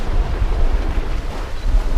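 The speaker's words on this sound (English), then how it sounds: "The tide's coming in still" Incoming tide washes over rocks along a rocky coastal valley, a continuous rumbling surf with rolling surges and some wind buffeting the microphone, no voices.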